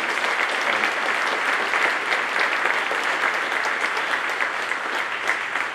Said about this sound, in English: A round of applause for our Japanese brothers and sisters.